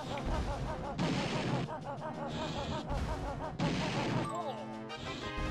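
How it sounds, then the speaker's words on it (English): Mortar cannons fire in Banjo-Tooie as several loud, punchy booms and crashes in a row. They sound over busy game music and effects, and a voice cuts in at moments. "Now we get bombs. Mortar cannons!"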